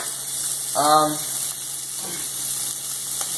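Shrimp frying in a pan sizzle steadily with a soft, continuous hiss, and a voice briefly sounds over the cooking near the start.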